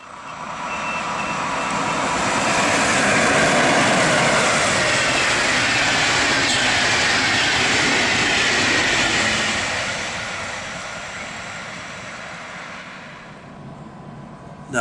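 A train runs through Nordheim station in Baden-Württemberg without stopping, its loud broadband roar swelling in and holding steady for about ten seconds before fading away.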